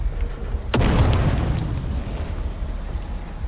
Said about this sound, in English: I really need to not get hit by that grenade.